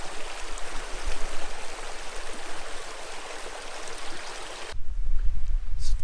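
Water of the north branch of the Whitewater River, a stream in Carley State Park, Minnesota, rushes in a steady broadband wash, with a louder, closer surge of flow in the last second or so.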